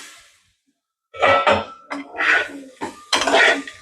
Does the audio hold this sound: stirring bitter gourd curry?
yes